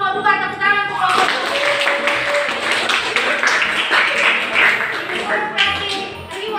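A classroom audience breaks into applause for a winning student group, a dense burst of clapping that rises and carries on for several seconds.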